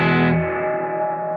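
Gamechanger Audio Light Pedal optical spring reverb on an electric guitar: a sustained, distorted chord rings loudly, its bright top fading quickly into a shimmering, spring-reverb tail.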